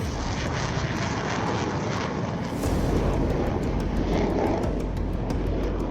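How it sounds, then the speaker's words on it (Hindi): A MiG-21 supersonic fighter jet flies past with a steady, broad roaring rush of engine noise that swells slightly louder midway and holds, with no voices. "छह दशकों से आसमान में भारत की आन बान शान रहा MiG-21 सुपरसोनिक फाइटर एयरक्राफ्ट आज अपनी आखिरी उड़ान भरेगा।"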